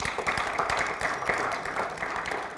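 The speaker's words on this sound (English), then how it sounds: "Please clap for that guru." An audience claps at a talk on cultivating human values, with a brisk, fairly steady patter of many hands that sounds close and lively for a couple of seconds.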